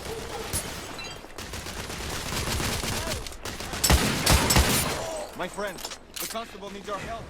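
Gunfire during a shootout in The Order: 1886: sustained volleys of shots crackle through the middle of the scene, mixed with shouted dialogue from several voices, then die away as talking continues.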